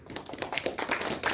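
A church congregation claps at a special prayer meeting, a quiet, loose patter of many hands that builds slightly and continues steadily through the moment.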